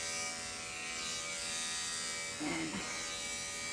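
Andis electric clippers buzz steadily and close while a dog is groomed, a constant whining drone that runs the whole time, with a brief spoken word over it near the end.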